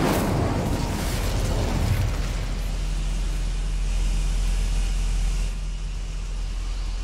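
An Incendio fire spell from Hogwarts Legacy erupts in a loud, close burst of flame that roars and rumbles continuously, its crackling blast gradually settling into a sustained low fiery drone.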